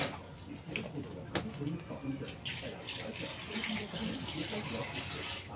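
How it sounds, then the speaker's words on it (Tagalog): Water poured into a cooking pot at a home stove, a steady gushing splash with a few small knocks, heard under ongoing talk. "Lagyan natin ng tubig."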